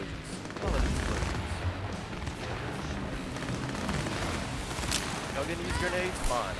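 Dense combat in Cyberpunk 2077 fills the scene with rumbling booms and crackling gunfire bursts, layered over a continuous low roar, loud and chaotic, with a voice talking over it.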